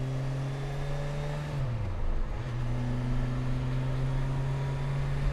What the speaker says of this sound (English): putting it into first. I'm using the clutch now.